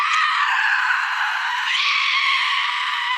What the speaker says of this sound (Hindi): चुड़ैल जोर से चीखती है।